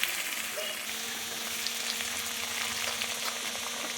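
Diced carrots fry in a pan for a milk-based vegetable pulao, producing a constant, even sizzle with faint stirring clicks, nearby and without speech.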